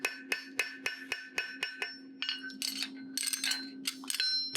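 A farrier at a hoof-trimming conference hammers a horseshoe with the flat of the hammer on the anvil horn, giving a fast run of sharp ringing metallic clangs that speeds into rapid irregular strikes, close and loud.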